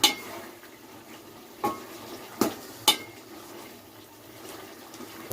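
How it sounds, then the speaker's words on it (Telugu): A Telugu-style chicken curry fries in a pot as coriander leaves are stirred in, with a low sizzle broken by several sharp clanks and scrapes of a spoon against the pan. "కొత్తిమీర వేసి బాగా మిక్స్ చేయాలి"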